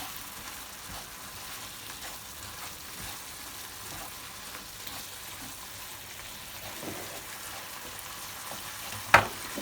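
Peppered lamb cooking in a pot gives a steady, moderately quiet frying hiss with soft crackles throughout, and a single sharper clink or scrape near the end.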